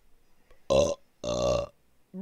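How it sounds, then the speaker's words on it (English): A man belches twice in close succession, each burp loud and close, the second longer and drawn out, followed by a brief sharp sound at the end. "Burping! It's delicious."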